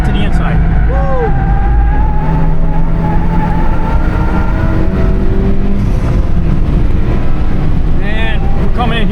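A 2017 Honda Civic Type R pushed hard on a track day, a loud, constant engine roar buried in heavy wind buffeting from inside the car, with someone talking over it.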